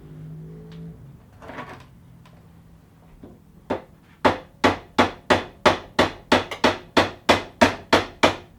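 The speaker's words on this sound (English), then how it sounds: "I'm using a rubber mallet to gently tap the calipers without trying to damage the powder coating" Rubber mallet tapping the stuck brake calipers of a 1985 Suzuki GSX-R 750 during a strip-down, a quiet rustle first, then about thirteen sharp, evenly spaced knocks growing steadily louder, close by.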